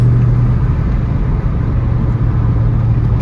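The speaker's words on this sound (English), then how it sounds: "It's really busy, lots of cars driving by." Traffic on a busy street, a continuous low rumble of cars passing close by, steady and loud with no breaks or talking.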